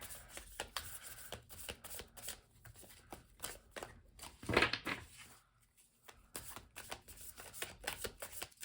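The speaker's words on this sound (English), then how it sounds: "I don't usually shuffle on camera" Repeated riffling and shuffling of tarot cards in quick bursts, close by and fairly quiet, with short pauses between.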